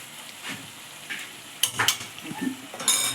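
Chopped onion, tomato and green chilli being stirred in a frying pan for beef macaroni, soft sizzling under intermittent scraping and clinking of a spoon against the pan.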